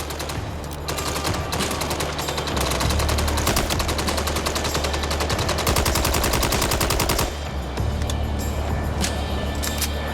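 Rapid automatic gunfire in the video game Mindseye crackles in dense continuous bursts over a loud game soundscape, with a low engine-like rumble underneath.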